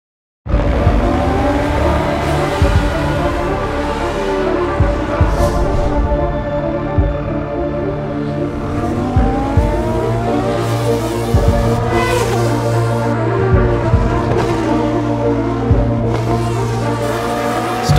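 A Formula 1 car engine in the F1 2013 video game screams through a hotlap of Imola, revs rising and falling through gear changes and braking for chicanes, loud and continuous throughout.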